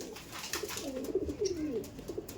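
Kaldom pigeons in a loft coo in low, throaty, overlapping rolls, soft and continuous, with faint clicks and rustling mixed in.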